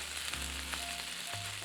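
Bacon fried rice frying in a pan over a medium flame, a steady close sizzle running throughout with occasional crackles and a faint tonal hum underneath.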